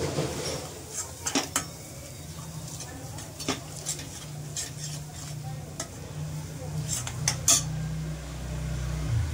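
Onion and coconut masala roasts in oil in a pan, a soft continuous sizzle broken by sharp scrapes and clinks as a spoon stirs it against the metal.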